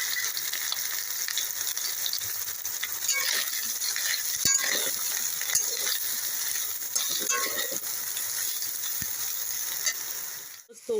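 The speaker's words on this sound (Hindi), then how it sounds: "तो इसी कढ़ाई में जो हम सोयाबीन रखे हैं उसे फ्राई करके निकाल लेंगे" Soybeans fry steadily in oil in a kadhai, a continuous hissing sizzle with occasional faint clinks and stirring noises, close and fairly loud throughout.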